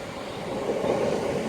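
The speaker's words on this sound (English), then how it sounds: "arriving in now is going to be the 10:53 ScotRail service to Edinburgh Waverley from Dunblane" A ScotRail class 170 diesel unit arriving at Edinburgh Park station, heard as a steady, fairly close rumble that swells slightly as it draws in, with no talking.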